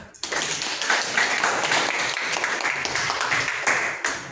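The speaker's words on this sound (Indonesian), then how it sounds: "Kasih tepuk tangan." A classroom of students claps together in a brisk burst of applause, fairly close and lively, lasting a few seconds before tapering off.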